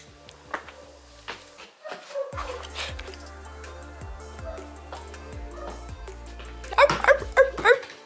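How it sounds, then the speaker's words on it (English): A dog barks and yips in a few short bursts, moderately near, with whimpering sounds in between and a quicker cluster of yips near the end, in a house during drain stack replacement work. "I don't know where that dog is."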